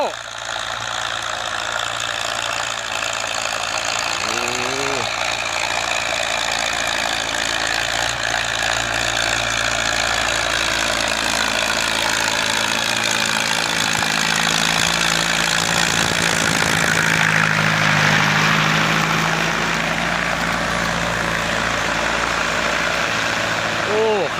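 A Ford 6600 tractor engine runs steadily at a low, even rumble while plowing a corn field, close by, with faint knocking and no pauses.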